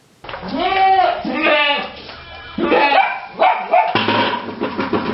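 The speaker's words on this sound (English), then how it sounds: "Oh look, a goat with a bucket on its head." A goat wearing a bucket on its head bleats loudly and close by, a run of four or five wavering, drawn-out cries that follow each other with short gaps.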